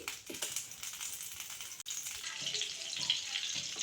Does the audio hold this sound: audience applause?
no